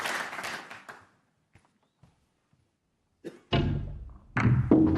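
Snooker balls colliding on the table, a cannon off another ball: a few faint clicks after a loud crowd burst, then applause breaks out again at the end.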